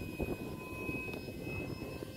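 A foam radio-controlled Super Hornet model jet flies outdoors, its electric motor giving a faint, steady whine and hum at some distance under wind.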